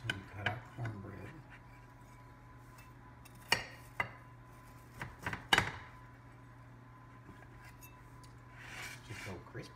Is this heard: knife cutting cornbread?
yes